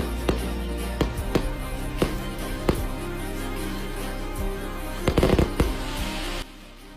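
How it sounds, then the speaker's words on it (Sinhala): A fireworks display with sharp bangs and crackling bursts going off at irregular intervals, a dense cluster near the end, over a steady background rumble and no talking. "බලන්නකො යාළුවනේ මේ මල් වෙඩි සංදර්ශනය කොහොමද කියලා."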